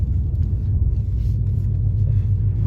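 A tuned E85 Ford Mustang GT with a 10R80 transmission and basic bolt-ons rumbles low and steady from inside the cabin as it pulls over, a constant deep drone with no speech.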